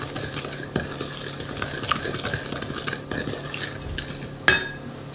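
A wooden spoon mixes sugar in a bowl for coconut cookies, giving soft scraping and gritty rubbing with occasional knocks against the bowl, close and moderately quiet, with no talking.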